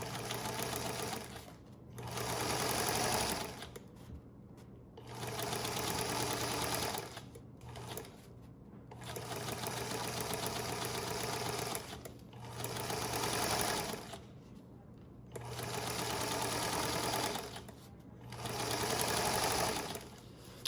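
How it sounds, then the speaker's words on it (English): A sewing machine runs in long steady bursts at a regular stitch length, joining two fabric pieces for a hospital gown, with short pauses between the runs of stitching and no talk. "I'm just gonna go ahead and start sewing these two together."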